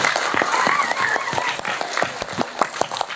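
A large audience at a religious gathering gives a round of applause, crisp, dense clapping that carries on for a few seconds, with faint voices underneath.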